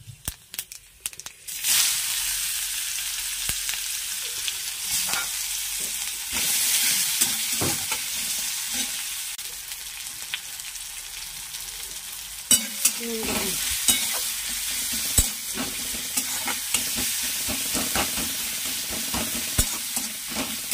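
Five-spice tempering (panch phoron) hits hot oil in a pan for an okra and potato curry. After a quiet opening second, a loud crackling sizzle runs on under repeated scraping stirs, with sharper pops now and then.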